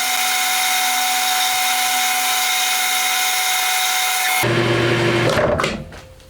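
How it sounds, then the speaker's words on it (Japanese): Power drilling through a metal ring-shaped part being machined for a handmade 125cc four-cylinder engine's crankcase tooling, a loud steady whine with tonal harmonics that shifts pitch near the end, then winds down and stops. "外形加工が終わったらドリルで下穴開けていきます。"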